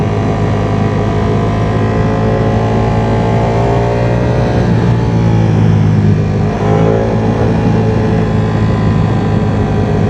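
A Ducati Streetfighter V4 motorcycle engine drones loud and steady while riding, a dense sustained hum with rising and falling harmonics as the revs shift, and wind noise mixed in throughout.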